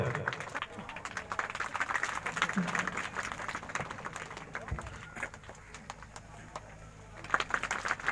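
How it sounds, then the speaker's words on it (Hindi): Applause from a gathering welcoming a guest at a local girls' school event, scattered clapping rising and fading with voices and a loudspeaker-style announcement over it. "ताली बजाकर स्वागत"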